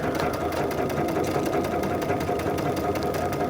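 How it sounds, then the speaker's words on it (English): A sewing machine stitches a quilt, running fast and steady up close with a rapid rhythmic mechanical chatter, as the stitch line is back tacked and sewn again. "Then I'm going to back tack, and I'm going to sew again."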